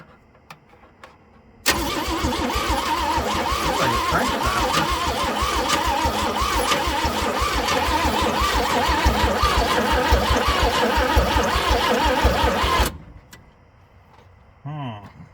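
A Chevrolet C10 truck engine cranks steadily for about eleven seconds with a strained, rhythmic churning, suspected of a weak spark and never catching, then cuts off abruptly to near quiet, followed by a brief faint noise.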